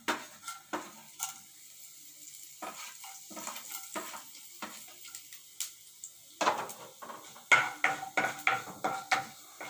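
Tempering spices crackle and pop in hot oil for tamarind rice with scattered sharp bursts, joined by occasional stirring clinks against the pan; no voices.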